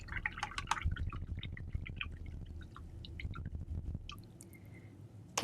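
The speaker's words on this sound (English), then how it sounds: "Rinsing out the little brush." Small paintbrush swished and tapped in a water jar while rinsing off acrylic paint, with close, light drips, splashes and clinks in an irregular patter.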